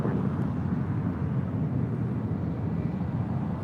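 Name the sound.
United Airlines Boeing 757-200 arriving at LAX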